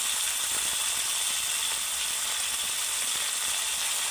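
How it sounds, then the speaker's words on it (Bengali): Potatoes frying in oil for a Bengali jackfruit curry, seasoned with salt and turmeric, giving a steady, close, dense hiss of sizzling fat that holds evenly throughout without pause. "আলুগুলোকে আমি ভালো করে তেলের সাথে ভেজে নেব।"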